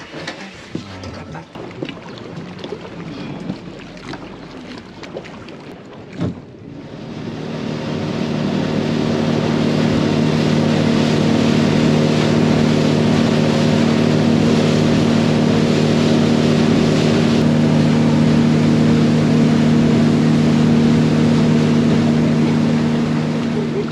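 Aboard a motorboat crossing a lake, a few voices and scattered noises give way to a loud, steady engine drone and rushing water that hold for the rest of the ride.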